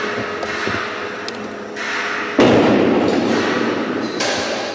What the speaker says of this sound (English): As the strains increase, the structure responds with eerie creaks, cracks, and booms.